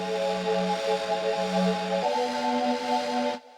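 Telekinetic Magic sample from the Brainwaves pack in the Arcade plugin: a steady, hazy synth pad holding sustained tones that shift pitch once midway, moderately quiet and alone, cutting off abruptly near the end.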